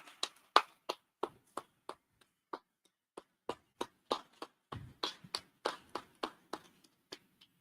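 Applause from an audience at a conference on disaster resilience, made of sparse, separate claps that grow into a quick, uneven patter of a few hands clapping nearby.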